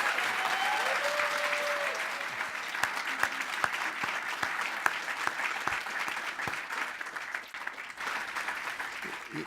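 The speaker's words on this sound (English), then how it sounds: "Let's give them one more big round of applause." An audience at an awards ceremony applauds with sustained, dense clapping that rises and thins toward the end, with a voice briefly heard near the start.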